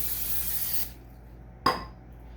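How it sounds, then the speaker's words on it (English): A can of canola oil cooking spray hisses steadily onto a hot griddle for close to a second, then a brief clink of the can being set down follows before quiet. "spray your griddle down with some canola oil spray"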